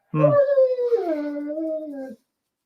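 A single close puppy whine, a drawn-out high-pitched wavering cry lasting about two seconds before stopping into silence.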